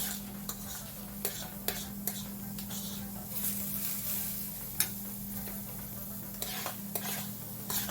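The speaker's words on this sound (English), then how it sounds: "I'm gonna add the peas to the pot, the peas and the carrot to the pot" Peas and carrots sizzle softly in unsalted butter in a pot, a low steady frying hiss broken by sharp spoon clicks and taps against the pot over several seconds.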